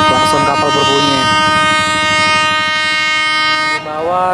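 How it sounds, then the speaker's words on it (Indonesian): A Lake Toba ferry's horn blares loud and close, a long sustained tonal blast with rich harmonics, over a steady engine rumble and faint background voices. "Klakson kapal berbunyi."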